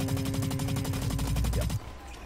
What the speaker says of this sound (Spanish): Hoy voy a estar jugando un Assault Rifle de Fault en este mapa.